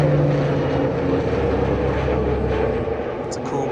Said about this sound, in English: It's a cool plane right there.